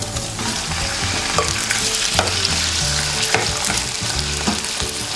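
Meat frying in a pan with golden brown onions for akhni pulao, a steady loud sizzle with stirring scrapes throughout, no talk.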